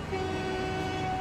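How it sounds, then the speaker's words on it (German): Steady diesel train horn from Transport Fever 2 blaring alone and loud, one sustained tone held through the whole short stretch. "der hupt nochmal, der hornt nochmal"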